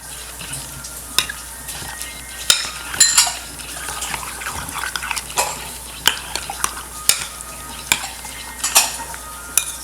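Lamb meat is worked by hand with mustard oil in a bowl, wet squelching and slapping with irregular clicks of the container, close and without talk.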